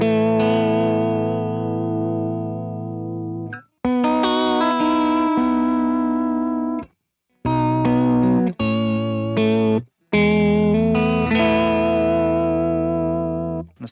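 Electric guitar played through a Diamond vibrato pedal, sustained chords with a wavering, pitch-bending shimmer and reverb tails, loud and close, broken by a few brief silences between strums.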